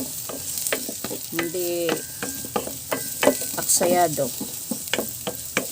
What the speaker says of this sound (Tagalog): Pag nagigisa-gisa ako, yung manipis lang na kaldero o kawali ang gusto kong gamitin para madaling maluto.